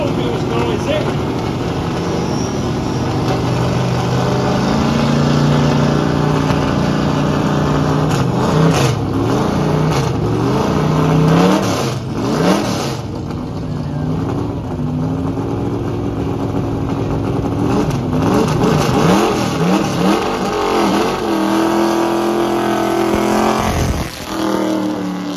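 A historic touring car's engine revs loudly as it runs down a hill at the Salon Privé Classic & Supercar event, holding a sustained, rising and falling roar close by for the whole stretch, with the pitch swinging as it shifts.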